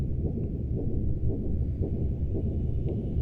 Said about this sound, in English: I hear a heartbeat.